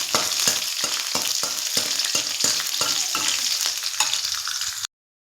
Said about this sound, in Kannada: ಸ್ವಲ್ಪ ಸಾಸಿವೆ ಹಾಕ್ಕೊಬಿಡ್ತೀನಿ. ಚಟಪಟ ಅಂತ ಇದೆ.